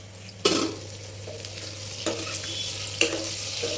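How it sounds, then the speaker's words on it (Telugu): Eggplant pieces stirred and frying in a pan, with a steady sizzle under repeated scraping strokes of a spoon, three sharper stirs standing out, close and moderately loud with no talking. "వంకాయ ముక్కలు మధ్య మధ్యన తిప్పుకుంటూ ఉండాలండి, మాడకుండా."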